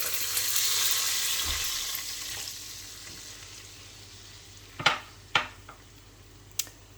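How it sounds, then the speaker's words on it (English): Vegetable stock goes into a pan of mushroom pasta sauce, a loud hiss fading into a soft simmer, followed by a few sharp clinks of a utensil against the pan. "after a couple of minutes you want to just add the vegetable stock"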